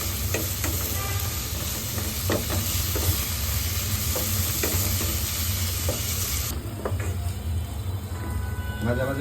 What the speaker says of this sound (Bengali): রসুনটা দেওয়ার পরে এটা একদম ভাজা ভাজা হবে, একটু তেল ছাড়বে পেঁয়াজটার গা থেকে